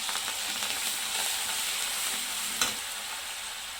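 Garlic, coriander and ginger paste hits hot oil in a home kitchen pan, giving a loud, steady sizzle that runs the whole time with a brief sharper crackle near the end.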